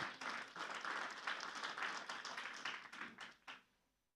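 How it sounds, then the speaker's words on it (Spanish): A church congregation at a Sunday service claps steadily for about three and a half seconds to welcome singers, a dense mid-level patter that fades quickly at the end. "Recibamos con un fuerte aplauso."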